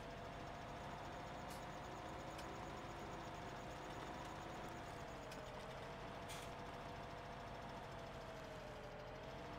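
A tractor engine idles in Farming Simulator 17, giving a steady, continuous low hum that holds unchanged throughout with a few faint clicks.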